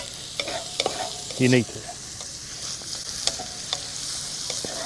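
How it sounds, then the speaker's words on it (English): Onions sauté in a pan over an open campfire, a steady close sizzle and frying hiss with scraping stirs, and a person speaks briefly over it. "saute them up a little bit here"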